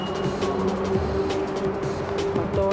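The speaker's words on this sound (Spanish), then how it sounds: "Motor 4 cilindros." Four-cylinder engine of a 2015 Audi A3 S line convertible, a steady close idle hum with a faint droning tone and slight fluctuations, no talking.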